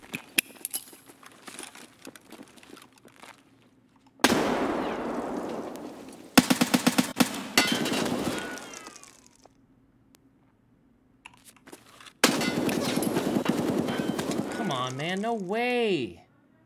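Gunfire in the shooter game Escape from Tarkov: bursts of rapid automatic shots in loud clusters separated by quiet stretches, mixed with game noise and someone talking at times.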